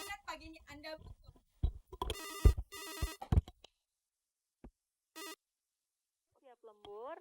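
A telephone rings in bursts for a radio call-in, sharp trilling rings alternating with gaps, with talk before the rings and a short voice at the end.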